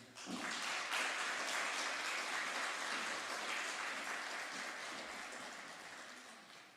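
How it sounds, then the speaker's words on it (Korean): Applause from a church congregation during a Korean Sunday worship service as the pastor comes forward: a sustained burst of clapping that starts abruptly, stays full and steady, then tapers slightly toward the end. "목사님 나오실 때 큰 박수로 환영해 드리겠습니다."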